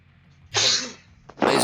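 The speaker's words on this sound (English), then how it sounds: "That's me sneezing." A person sneezing during a tabletop game session, a sharp, breathy burst followed by a second close, forceful sneeze within under two seconds.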